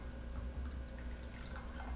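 A freshly shaken cocktail is poured out in a quiet, close trickle of liquid with a few soft drips and no voices.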